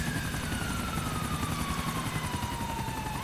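A helicopter in the GTA IV video game drones loudly and continuously with a dense rotor and engine roar and a slowly falling whine, steady throughout with no talk.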